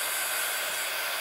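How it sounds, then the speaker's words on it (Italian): Embossing heat gun blowing hot air to dry paint on a Halloween cupcake box craft project, a steady loud broadband whoosh of fan and air with no pauses or talk. "agevolo l'asciugatura con un po' di embosser"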